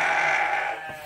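A sheep gives one sustained, loud bleat inside a barn, lasting about a second before it fades out.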